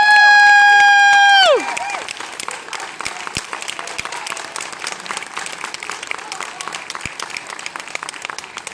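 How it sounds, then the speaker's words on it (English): Audience applause at a senior night event, starting under a loud musical tone that fades after a second or two, then a steady round of clapping with scattered sharp claps and faint crowd voices throughout. "Please give them all a round of applause."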